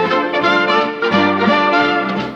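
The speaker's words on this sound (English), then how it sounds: "you can hear the bell tower behind me ringing now" Church bells in a bell tower in Brantôme, Dordogne, France ring out together, overlapping strikes blending into a steady, shimmering peal nearby.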